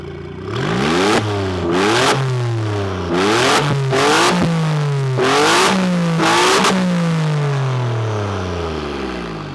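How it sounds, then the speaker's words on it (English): Maserati MC20 with a racing exhaust revving repeatedly, about six sharp throttle blips rising and falling in pitch, loud and close, with a long falling decay at the end and no talking. "And now the sound of the exhaust."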